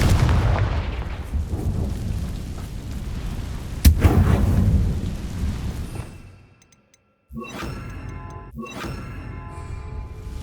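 A Confringo blasting spell goes off in Hogwarts Legacy with a heavy, rumbling explosion and a sharp crack in the middle. The blast fades to near silence, then two bright ringing chimes sound.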